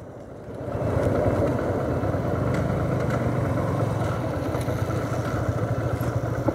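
A Yamaha R15 motorcycle engine idles steadily close by, a low, even mid-pitched rumble that swells up after the first second and then holds constant with no talking.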